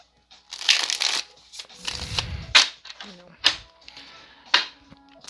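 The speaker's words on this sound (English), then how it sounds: "One more riffle shuffle." An astrology tarot deck of 100 cards being riffle shuffled, several quick bursts of fluttering card flaps and taps, close and crisp.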